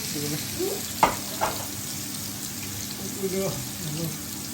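Ilisha fish fries in mustard oil with a steady sizzle and a few clinks of utensils, fairly soft, with a voice now and then.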